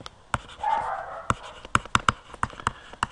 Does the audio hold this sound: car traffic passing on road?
no